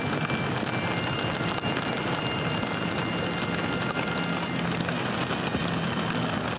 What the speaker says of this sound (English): As if on cue, rain began to fall.